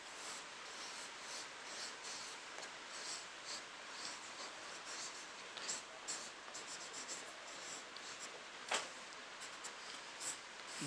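A teacher writing notes during a history class, soft continuous scratchy pen or chalk strokes in short repeated bursts, faint and close, with no talking over them.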